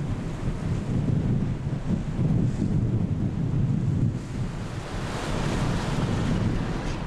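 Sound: strong wind and waves on the North Sea

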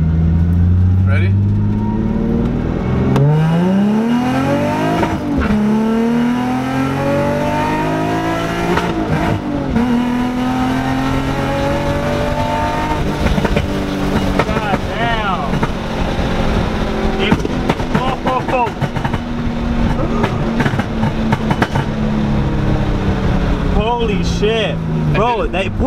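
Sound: Infiniti G35 accelerating after aluminum driveshaft install

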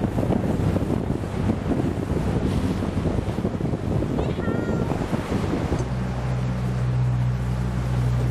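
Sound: waves on Knysna lagoon, South Africa

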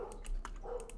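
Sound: dog barking

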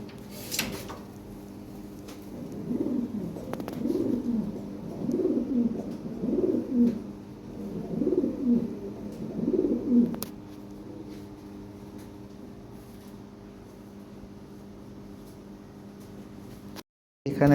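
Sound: pigeons cooing, pigeons for sale

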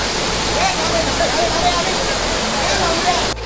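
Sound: waterfall

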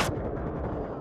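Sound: gunfire in the VR video game Onward

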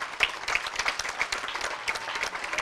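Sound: audience applause

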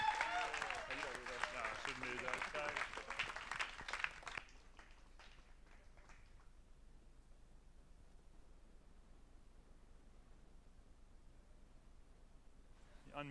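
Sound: church congregation applauding

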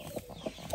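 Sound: hen clucking

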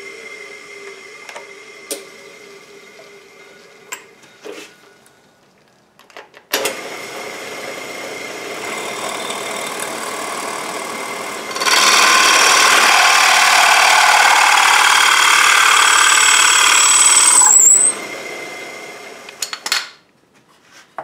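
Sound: power drill drilling holes in wood for shop storage

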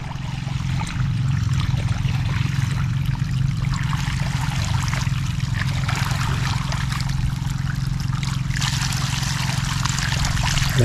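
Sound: water trickling out

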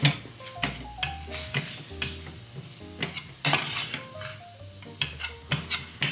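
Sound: stirring food in a pan with a spoon

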